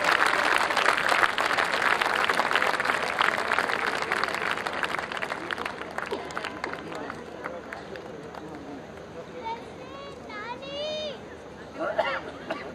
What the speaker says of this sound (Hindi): सब लोग जोरदार तालियों के साथ स्वागत करेंगे।